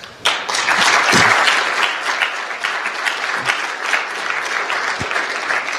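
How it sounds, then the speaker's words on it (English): An audience at a bitcoin conference bursts into applause, loud at first, then easing into a steadier, thinner clapping that continues to the end. "or Alex, Kathleen, Eric, Melanie, and Shaul, we get another round of applause?"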